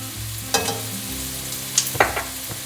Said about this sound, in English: I will give it a stir